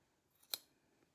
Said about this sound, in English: I will cut this one a little higher than the heel.